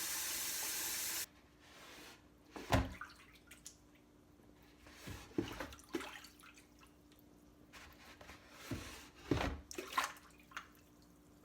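Water poured into a basin in a kitchen, heard as scattered splashes and drips that come and go in short bursts against a quiet room.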